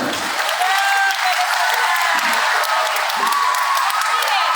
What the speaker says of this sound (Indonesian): Saya minta tolong kasih tepuk tangan untuk mereka